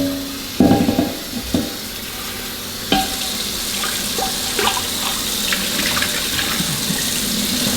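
Tap water runs steadily into a pot as it is rinsed out, with a few clanks and knocks of the pot against the sink over a constant hissing stream.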